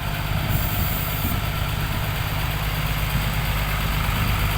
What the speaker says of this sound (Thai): นี้ไม่ดับเครื่อง ยังสตาร์ทเครื่องอยู่